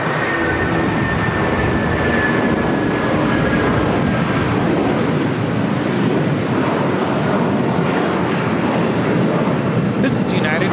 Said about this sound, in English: This is United Airlines 678 taking off to Newark on a 757-200.